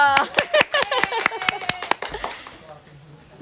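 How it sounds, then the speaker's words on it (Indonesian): A small group claps for a guest at the start of a talk-show dialogue, about ten quick, sharp claps in a fast rhythm that fade out after two seconds into a quiet room. "Tepuk tangan dong."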